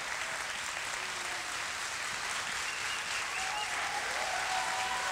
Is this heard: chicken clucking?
no